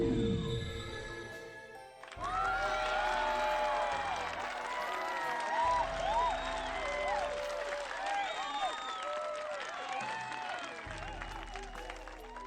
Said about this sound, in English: Mazaluka used her magic to whip up nearby papers and create the sound of a cheering crowd